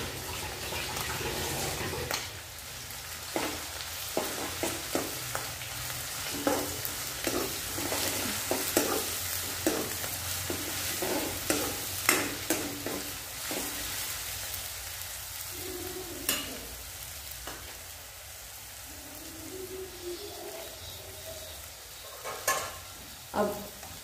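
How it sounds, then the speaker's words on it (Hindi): Garlic, ginger and chili paste sizzles steadily in hot oil for noodles, a continuous frying hiss punctuated by repeated stirring scrapes and clinks up close, with no talking. "तेल में हम ये लहसुन, अदरक और मिर्ची की पेस्ट डालेंगे"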